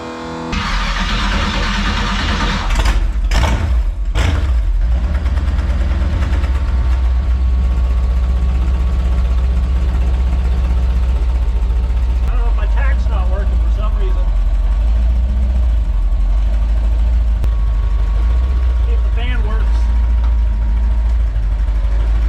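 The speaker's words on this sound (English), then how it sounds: "I'm going to turn the key here and hope that everything goes okay." A car engine cranks over in a few quick bursts, catches and settles into a loud, steady idle to warm up after sitting with no fluid circulating for a while.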